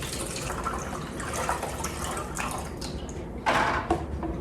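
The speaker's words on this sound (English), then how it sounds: "you're supposed to fill it up with water" Water poured from a container into the reservoir of a LetPot hydroponic growing system, filling it to about 2 liters: a steady close trickle with a brief louder splash toward the end, no talking.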